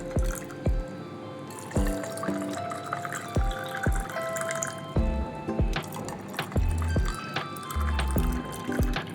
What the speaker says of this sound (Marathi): आता पाणी घालायचं.